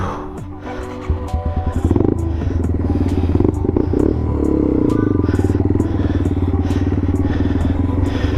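A TW dual sport motorcycle engine chugs along at low revs while ridden slowly on a trail, steady and close, with clattering from the chassis and a few louder throttle bursts early on.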